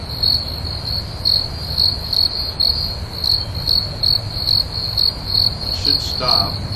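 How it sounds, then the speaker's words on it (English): Crickets chirp in steady, evenly spaced bursts, a high repeating trill running through the whole stretch against a low background hum, with no voices. "I can hear crickets from someplace."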